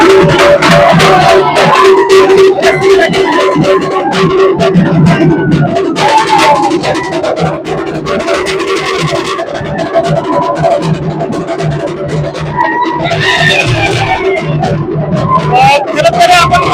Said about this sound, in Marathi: कार्यकर्त्यांचा समर्थकांचा या ठिकाणी मोठा जल्लोष आपल्याला पाहायला मिळत आहे